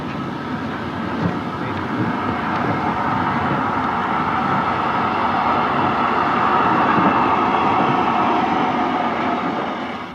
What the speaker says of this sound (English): The loco is seen at the Strathspey's own station at Aviemore before picking up its train.